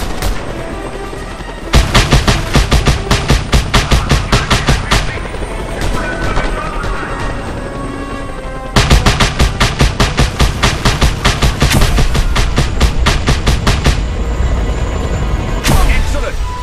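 Helicopter rotor drone and heavy gunfire from the Just Cause 2 video game, with long rapid machine-gun bursts and explosive shots layered over steady background battle noise.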